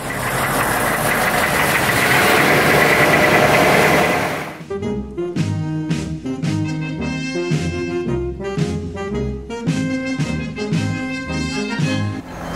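A 1987 AM General Humvee with a swapped-in 6.5 liter diesel engine and turbo 400 transmission: a loud, broadband roar for about four seconds, then a rough, clattering idle with steady rhythmic knocking pulses, close by.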